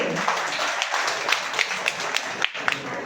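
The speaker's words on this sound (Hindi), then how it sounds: "जोरदार तालियां इनके लिए" An audience at a product results event in Ahmedabad breaks into hearty applause for a woman standing with her husband, a dense patter of clapping with sharper individual claps standing out.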